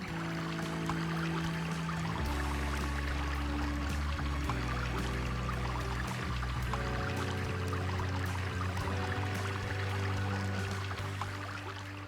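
Water of a diverted brook flowing through channels, a steady loud rushing and pouring with trickling detail, continuous and close, no voices.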